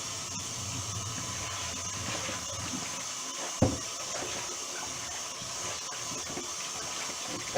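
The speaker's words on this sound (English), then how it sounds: "Rinsing, rinsing, rinsing, rinsing, rinsing. Until the water is like semi-clear, like clear," Tap water running steadily to rinse oxtail in a kitchen sink, a constant close splashing rush with one sharp knock partway through.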